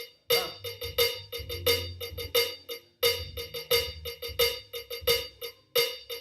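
Several types of campana cowbells in salsa play a busy syncopated pattern of sharp metallic clanks, some accented, with low drum thumps underneath, close and lively with no talking.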